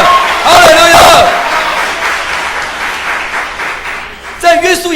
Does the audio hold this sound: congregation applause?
yes